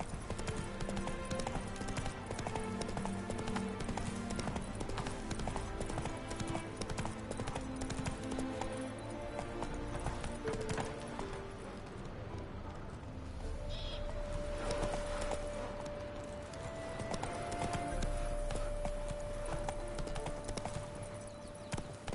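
Hooves of Roach, Geralt's horse in The Witcher 3: Wild Hunt – Hearts of Stone, clip-clop in a steady trotting rhythm throughout, close and continuous over a low bed of game ambience and music.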